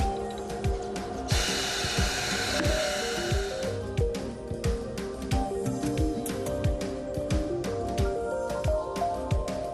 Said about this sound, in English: the upper bead can be demounted using the optional plastic disc while the wheel is slowly rotated